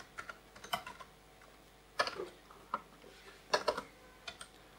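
Typing on a computer keyboard while working in Blender 2.8 software, a few scattered bursts of close, quiet key clicks with short gaps between them, alone.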